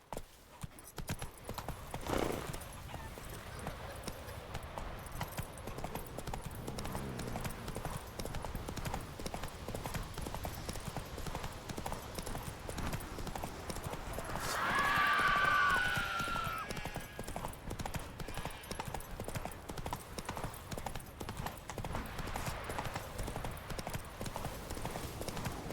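Horse hooves clip-clop in a steady trotting rhythm while riding in The Witcher 3, continuous and fairly quiet under ambient game sound, with a brief swell of noise midway.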